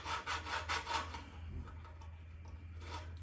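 Valve being lapped into its seat on a 1960s lawn mower engine, a close, quiet run of rhythmic gritty rubbing strokes, denser at first, then fading to lighter scraping, over a steady low hum.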